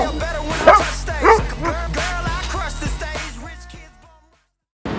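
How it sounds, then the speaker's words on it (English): A dog barks on command in a casual outdoor setting in Nashville, giving several sharp yips and bow-wows in an irregular series up close, followed by a whimpering tail-off and then a brief silence. "Bark for Tilly Gang. Speak."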